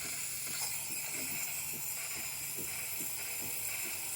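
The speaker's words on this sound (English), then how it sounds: "Good steam coming out from this beautiful one." A steam wand on a Lavazza Espresso Point machine hisses steadily at full pressure after a water pump replacement. The hiss is bright and continuous, with faint rhythmic ticking and pump clatter underneath.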